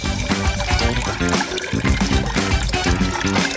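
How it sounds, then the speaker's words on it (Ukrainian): Cola poured into a glass over a molded gummy bear, a close, steady gushing and fizzing stream with bubbly splashes throughout. "Заливаємо все колою."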